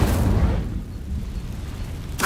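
An Incendio fire spell cast in the Hogwarts Legacy video game, heard as a loud fiery burst and rumbling roar that fades, followed by a short sharp whoosh at the end.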